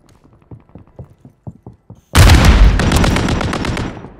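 Gunfire in the video game Call of Duty: Resurgence Vondel, a few soft distant pops and clicks, then a sudden loud, sustained burst of automatic fire up close.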